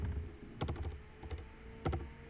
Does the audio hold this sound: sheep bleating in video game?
no